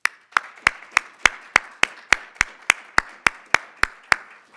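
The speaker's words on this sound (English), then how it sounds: "give a round of applause to everyone who presented here today" A short burst of scattered clapping at a thesis presentation competition, about fifteen sharp claps at a steady, even pace, like a small group or single person applauding.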